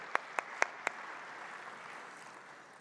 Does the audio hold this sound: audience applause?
yes